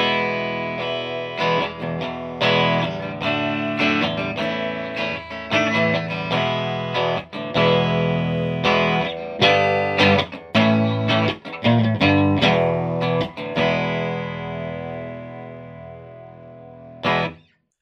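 Electric guitar played through a 30-watt Marshall amp into Celestion G12N-65 speakers, a driven, sustained tone with strummed chords and picked notes ringing loud and close, ending in a brief stop.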